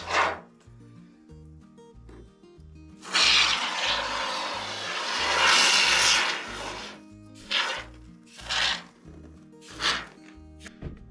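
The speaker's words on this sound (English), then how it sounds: "So I got some expanding foam" Expanding foam sprayed from a can into a gap at the base of aspenite sheathing in a boat house. A long close hissing burst is followed by several short spurts, over a steady rhythmic low thumping in the background.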